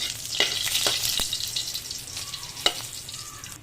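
Garlic frying in a pan, a steady sizzling hiss with a few sharper crackles and pops, close and moderately loud, no talking.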